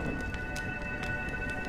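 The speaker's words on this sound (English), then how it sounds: "When will this rain ever stop?" Steady rain pours in Honkai Star Rail's Penacony, with soft thunder rumbling beneath the downpour and a few brighter splashing bursts over a faint sustained tone.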